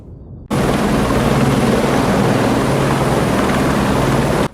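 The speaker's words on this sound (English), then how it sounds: "The San Francisco sky was suddenly filled with low-flying helicopters" Low-flying helicopters over San Francisco make a loud, continuous rotor drone that cuts in abruptly after a brief quiet moment and holds steady at close range, with no speech.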